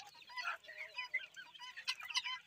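Chickens of mixed sizes in a newly built poultry farm pen cluck and chatter in quick overlapping bursts, close and fairly clear, with no talking.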